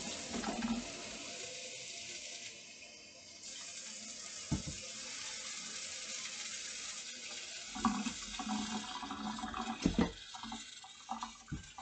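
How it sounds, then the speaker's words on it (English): A tap runs with a steady, hissing stream of water that continues throughout, broken by a few soft knocks and splashes near its end. "I stop the water so I don't waste water."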